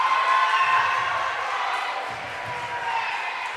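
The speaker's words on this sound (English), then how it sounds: "Crowd is excited about somebody entering the game" A crowd at a high school basketball game between Vilonia and Little Rock Catholic cheers in a gym, a sustained roar of voices that swells and eases, with shoe squeaks and bounces underneath.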